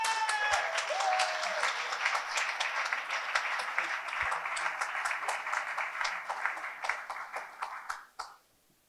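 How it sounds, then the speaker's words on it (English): An audience at an esports talk applauds steadily for several seconds, the clapping fading away quickly at the end. "please give a big round of applause to Nicolas, Maurer!"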